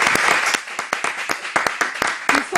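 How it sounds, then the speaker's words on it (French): A studio audience applauds four young guests on a French talk show, a loud close burst of dense clapping that rises and falls in quick waves. "On peut les applaudir."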